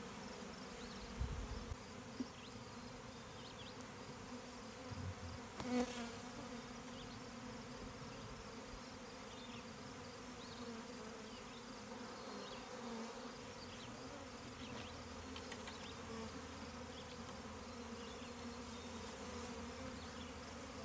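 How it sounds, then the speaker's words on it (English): A continuous, dense drone of many bees buzzing all around, steady and enveloping with no speech. "They are just buzzing around my ears and head and all over us"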